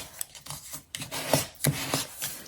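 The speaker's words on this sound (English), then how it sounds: "now we're going to fold on all of our score lines and burnish with our bone folder" Paper is folded along score lines and burnished with a bone folder for a gift card box, giving a series of short, close rubbing and scraping strokes with a few sharper creasing snaps, fairly quiet and with no talk.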